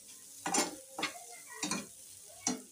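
Egg chutney is stirred in a frying pan in four distinct scraping strokes, each a short sizzling swish separated by brief pauses, close and moderately quiet.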